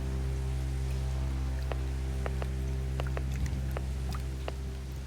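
Steady rain falls with a soft, continuous patter and scattered distinct drips, over a low, constant hum.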